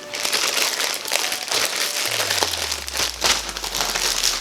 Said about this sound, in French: Et moi je déchire carrément parce que des fois c'est vraiment pas facile du tout d'ouvrir les paquets